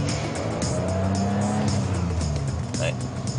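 A BMW 325 inline six-cylinder car engine hums and revs steadily with some tire noise, a smooth droning mechanical tone throughout.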